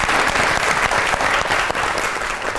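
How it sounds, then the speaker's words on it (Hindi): Loud, dense applause from a television comedy show studio audience, continuous rapid clapping that stays full and even throughout, close and alone without talk. "बहुत सी तालियां महमूद असलम के लिए"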